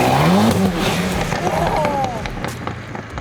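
A 900-horsepower car drives on a wet road, its engine note loud and rising with a brief squeal of tires, partly under a voice.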